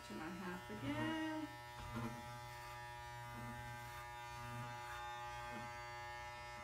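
Electric hair clippers hum steadily throughout a barber's state board haircut, a constant buzz with brief louder moments near the start and soft movement sounds over it.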